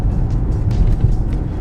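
A 2016 Dodge Challenger SXT Plus in sport mode pulls through a turn, a loud, close, steady low engine drone from inside the cabin with no one talking.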